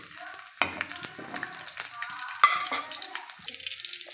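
Cumin seeds and garlic sizzle on a hot tawa for radish bhaji, a steady close crackle of frying with scattered sharp pops and stirring scrapes, no talking.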